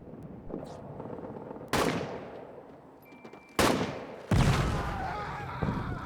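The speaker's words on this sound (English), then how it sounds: "And then artillery right on top of them as well." Artillery and machine gun fire in the World War One trench game All Quiet in the Trenches: a low rumble of distant firing broken by three loud, sharp blasts spaced a couple of seconds apart, each trailing off, with no talking.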